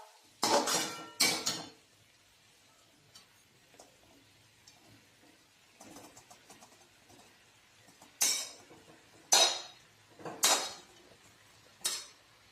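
Cooked rice being stirred into a biryani mixture in a pot, with a spoon clinking and scraping against the metal in several short bursts separated by quiet pauses, close and fairly loud.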